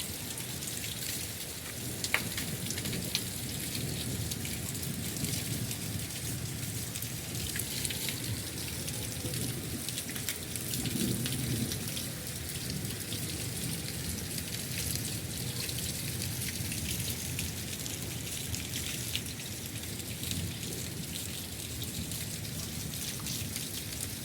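Heavy rain falls steadily over a farm field, a dense, even hiss of drops that stays constant for over twenty seconds with no voices.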